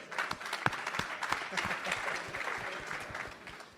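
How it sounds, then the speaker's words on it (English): Audience at an investment panel on early stage fund managers claps for the panelists, fairly faint and scattered with distinct individual claps over a soft crowd bed. "give a big round of applause for our panelists here today"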